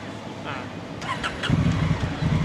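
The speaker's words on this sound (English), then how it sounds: "So start the car. Just start it." A car engine cranks and catches about midway, settling into a rumbling idle close by, with a voice talking over it.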